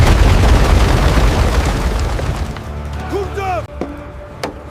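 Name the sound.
cannon fire sound effect, Ottoman siege guns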